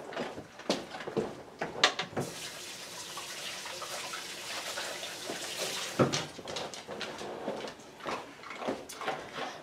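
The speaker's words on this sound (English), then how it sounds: "let me go rinse my hands off" Tap water runs into a sink while hands are rinsed, a steady splashing stream with several knocks and clatters at the start and end.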